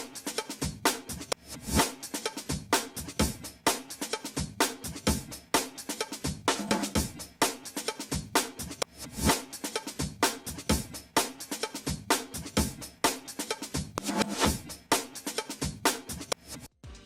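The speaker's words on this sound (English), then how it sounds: "just cut them and then reverse them like this" Music loop with cut sections played in reverse, producing choppy, swelling percussive hits and sucked-in attacks in a steady busy rhythm, loud and continuous for about seventeen seconds with no talk.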